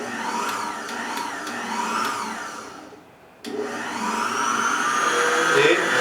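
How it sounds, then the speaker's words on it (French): An electric mixer beats vanilla crêpe batter at minimum speed with a steady motor whir. It cuts out briefly, then restarts and runs on at a slightly rising pitch. "Maintenant, nous allons commencer à battre le tout"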